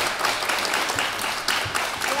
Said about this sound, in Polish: Oklaski dla Diany Grzyżyńskiej